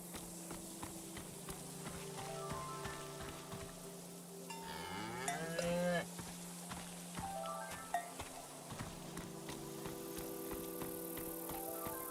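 A cow in the farm game Season: A Letter to the Future lets out a drawn-out moo at moderate distance over quiet ambient game sounds, accompanied by soft footsteps.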